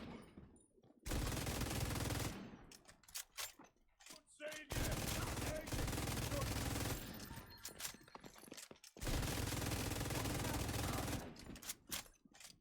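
Bursts of automatic gunfire in a video game mission at a reservoir assault, loud sustained volleys broken by short gaps and a few mechanical clicks, with no talking.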